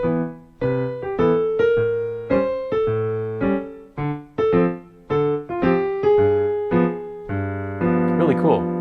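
A piano plays a bouncy stride pattern, low bass notes alternating with bright chords that carry flat and sharp ninth extensions, in an even, old-time rhythm that ends on a rolled flourish, with no talking.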